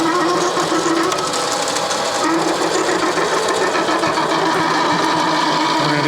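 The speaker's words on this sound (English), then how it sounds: "We're going to do a quick little counter bore. It's going to be loud with stainless" A mini lathe counterbores stainless steel with an oversized countersink bit, giving a loud, continuous grinding machine drone with a high, harsh cutting whine that holds steady throughout.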